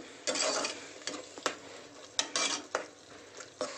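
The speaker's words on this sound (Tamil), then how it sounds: "சேர்த்து இது பச்சை வாசனம் போகிறதுக்கு ஒரு ரெண்டு நிமிஷம் வதங்கணும்." Ground clove, ginger and garlic paste sauté for lentil rice, moderately quiet bursts of sizzling alternating with sharp spatula clacks and scrapes against the pan in an irregular stirring rhythm.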